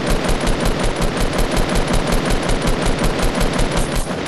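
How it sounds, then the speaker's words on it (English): Rapid, sustained automatic gunfire from a Fortnite match, a loud, steady stream of evenly spaced shots running unbroken for several seconds with no voices over it. "They were shooting"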